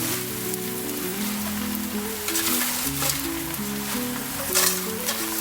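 Spinach added to a hot pan for a salmon and vegetable quiche, giving a continuous close sizzle and crackle, with background music playing underneath.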